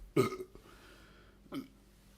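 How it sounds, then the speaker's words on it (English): A man lets out two burps, one loud and fairly close, then a shorter, softer one about a second later, with quiet room noise between them. "I'm just gonna need to get some burps in."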